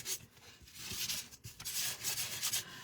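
Quick scratchy rubbing strokes of sandpaper against a torn paper card edge, close up, in irregular back-and-forth bursts with no talking.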